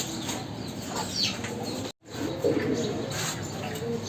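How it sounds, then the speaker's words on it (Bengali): Pigeons in a backyard coop alongside Brahma chickens coo softly and repeatedly at close range, with a brief dropout in the middle and some light fluttering around the calls. "কবুতরগুলা"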